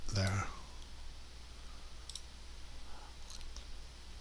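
Computer mouse clicking while working with dockable dialogs in GIMP: a sharp click at the start, then a few faint, scattered clicks over a steady low hum, with no one talking.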